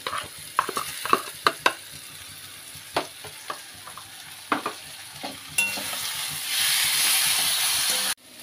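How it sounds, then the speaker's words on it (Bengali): Ginger garlic paste hits browned onions in a pan: several sharp scrapes of a stirring utensil, then a rising steady hiss of sizzling that fills the last seconds, close and clear. "এবার দিচ্ছি আদা রসুন পেস্ট।"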